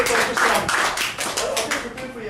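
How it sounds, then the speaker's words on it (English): Audience clapping at a preseason rugby league team talk by a guest speaker, a short burst of scattered hand claps with a few voices mixed in. "Round of applause, guys."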